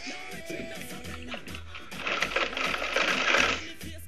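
Sewing machine stitching a small fabric flower onto cloth, a rapid mechanical chatter rising in bursts and growing busier and louder toward the end, close by.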